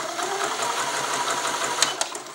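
A Swiss-made Elna sewing machine stitches at a steady fast pace, its rhythmic needle clatter and motor whir close and continuous, ending in a couple of sharper clicks.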